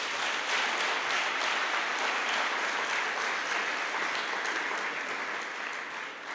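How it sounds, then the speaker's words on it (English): A lecture audience at a Freedom Day public lecture gives the speaker another round of steady, even applause, a broad wash of many clapping hands that holds level and only eases slightly at the very end. "Can you please clap hands again for him?"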